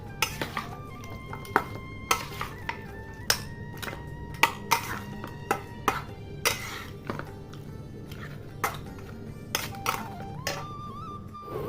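Oiled, marinated meat is turned over in a bowl with a utensil, producing a run of clinks and knocks against the dish at irregular intervals over a faint background, with soft scraping between them.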